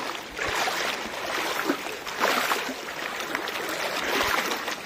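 Water splashes and swirls as someone in sandals wades across a cold, dirty river, with uneven surges of sloshing and no voices during the crossing.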